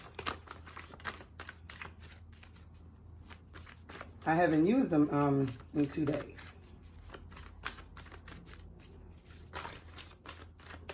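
Quick papery riffling and soft card flicks of tarot cards being shuffled repeat through the clip, with a brief burst of speech in the middle.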